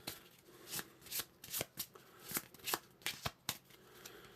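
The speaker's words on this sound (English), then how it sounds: "So shuffle these." A deck of game cards is shuffled repeatedly during a Mr. President 2020 board game session, with a rapid series of crisp riffling bursts, close and fairly quiet, with no talking.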